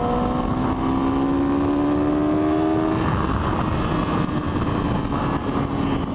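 A 2010 Yamaha R6 sport motorcycle revving high, a steady loud engine whine that climbs in pitch, then drops into a rougher, broadband roar, heard alone without talk.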